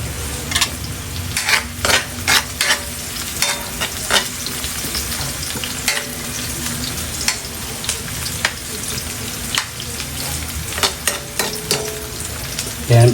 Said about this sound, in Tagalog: Ayan, para golden brown na itong sibuyas.